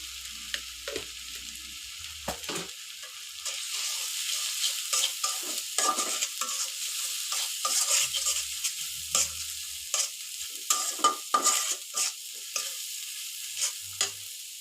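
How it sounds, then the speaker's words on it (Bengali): Spice paste fries with a rohu fish and ivy gourd leaf curry in a pan, a steady sizzle under repeated sharp scraping stirs of a spatula, close and with no talk. "ভালো করে মশলাটা কষিয়ে নিব"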